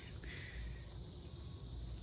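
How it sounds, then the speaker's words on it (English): Cicadas droning in a hot, humid August garden, a loud continuous high-pitched buzz that never lets up, close and steady, over a low background rumble. "I may or may not talk a whole lot in this video just due to the cicadas."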